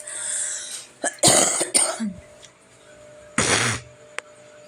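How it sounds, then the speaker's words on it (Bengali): A woman with a bad cold coughs in several harsh, close bursts, one double cough followed by another single cough after a pause. "এডিট করার সময় আবার কাশির আওয়াজ শোনা গেল"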